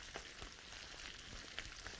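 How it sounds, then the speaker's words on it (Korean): Tempura deep-frying in plenty of oil while being stirred with a ladle gives a continuous, dense sizzle and crackle, steady and close with small pops, and no voices. "저거를 갖다 이렇게 저으면서 튀겨줘야 되거든요"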